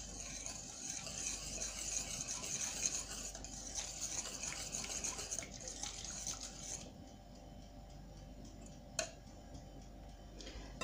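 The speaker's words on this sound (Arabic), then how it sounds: "نحركوها مزيان" Raspberry jam stirred in a pot as it cooks, a steady soft scraping and bubbling that fades quieter partway through, with one sharp clink near the end and no talk.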